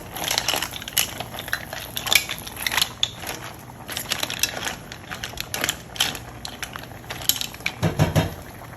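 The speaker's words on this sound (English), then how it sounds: "give it a good stir" Mussels being stirred in a Le Creuset mussel pot, giving rapid clattering, clicking shell knocks and scrapes in irregular bursts, close and fairly loud, with no talking.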